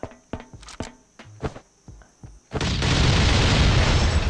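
In the video game Last Island of Survival, a few scattered thumps and pops, then a loud, sustained explosion roar that fills the rest of the clip.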